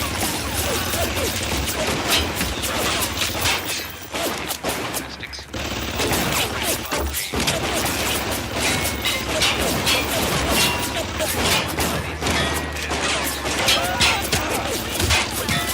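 Rapid gunfire from cover shooting in the video game Bioshock, dense bursts of shots with clanks and impacts, loud and nearly continuous, with a short lull midway.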